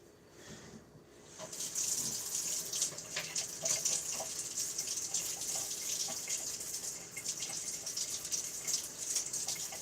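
A tap runs steadily into a sink during washing, a close, continuous hiss of flowing water that starts after a brief quiet moment and carries on evenly to the end, with faint clatter mixed in.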